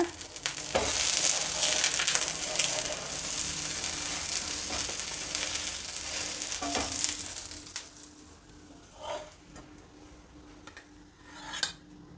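Ridge gourd dosa, a coastal Karnataka savoury breakfast, sizzling loudly on a hot pan just after being flipped; steady frying hiss for about eight seconds, then faint clinks of a utensil as the sizzle dies down.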